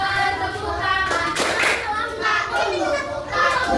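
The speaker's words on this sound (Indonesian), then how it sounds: "Buka tutup. Bertepuk tangan." A group of children claps hands together in a lively, dense patter, mixed with their chatter and a leading adult voice.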